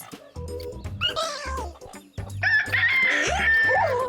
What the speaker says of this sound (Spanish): Ese es el canto del gallo.